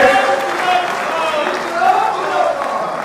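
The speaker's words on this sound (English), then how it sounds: "I request all of you to give a big clap for it." Applause from an audience at a farmers' union gathering, a steady wash of clapping that fills the whole clip at moderate loudness.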